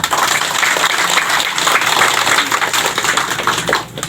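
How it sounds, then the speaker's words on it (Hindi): Audience applause at a Hindi-language talk, a dense steady patter of many hands clapping together for about four seconds before thinning out at the end. "तो एक बार भैया बहन के नाम से एक बार तालियां हो।"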